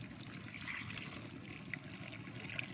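A scoop of liquid bio fertilizer is poured into a container already holding 16 liters of water, producing a faint continuous trickle and splash with a few small plops, close and quiet.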